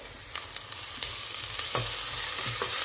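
Freshly pounded ginger garlic paste frying in oil while being stirred for a coconut vegetable pulao, a close continuous sizzle broken by light scraping strokes of the spoon.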